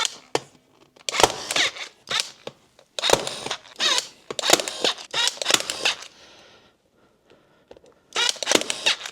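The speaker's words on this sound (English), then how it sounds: "all I'm going to do is work my way around and staple this thing in" A staple gun fires repeatedly as vinyl is fastened around a Silverado truck armrest, giving sharp close clacks in irregular clusters with short pauses between them.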